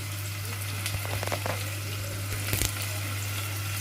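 Curry leaves and garlic sizzle in oil in a pan for a drumstick (moringa) dish, a steady close frying crackle with a few sharper spits and pops, no voices.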